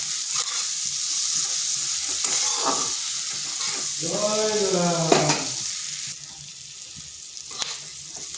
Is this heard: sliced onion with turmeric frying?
yes